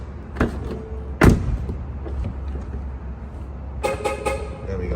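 A Mercedes salvage car gives a single sharp horn chirp as it locks, loud and close in a quiet outdoor space, with a few soft thumps and light handling noise around it.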